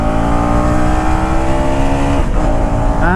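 A 2024 KTM Duke 250 with a bidirectional quick shifter revs hard and loud under acceleration, its engine tone climbing steadily before a brief dip and a fresh rise as it shifts up, with no speech.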